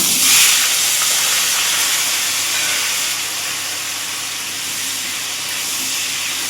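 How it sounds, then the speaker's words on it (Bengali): Potatoes frying in oil in a pan hiss with a steady, dense sizzle that fades slightly partway through, continuous and close with no speech. "এবার ওই একই তেলে আমি আলুটাকে ভেজে নেব।"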